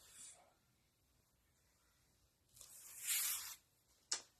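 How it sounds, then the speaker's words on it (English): Tape is peeled off a stained craft project surface in one soft, rasping tear lasting about a second, followed by a sharp snap, in an otherwise quiet room. "I'm going to take my tape off of here first. That I put on here. Just peel that right off."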